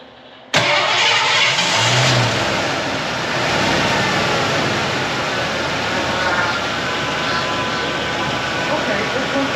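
An old Ford LTD sedan starting after sitting unused for eight years: a sudden catch after a moment of quiet, then a loud, steady engine roar running close and continuous with a rough idle texture, with people talking over it.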